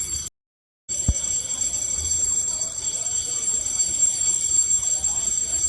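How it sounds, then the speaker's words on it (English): A fire alarm goes off at a police department in Manchester, NH, a steady, shrill electronic tone that runs continuously after a brief cutout at the start, over low background rumble. "there's a fire alarm going off of some sort"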